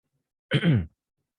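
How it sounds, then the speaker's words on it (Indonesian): A single short, throaty cough or throat-clear, close and fairly loud, isolated in otherwise quiet surroundings. "sorry, saya batuk-batuk"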